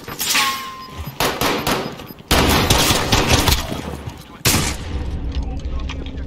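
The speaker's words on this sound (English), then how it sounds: "Shotgun." Gunfire in the video game Call of Duty Warzone, including shotgun blasts, with heavy booming shots and rapid bursts while a voice talks over the action.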